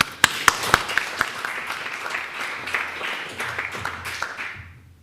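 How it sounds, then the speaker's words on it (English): An audience at a presentation applauding, a burst of distinct close claps at first that blends into steady clapping from the room and fades out after about five seconds. "It's always nice to get a bit of applause before you start."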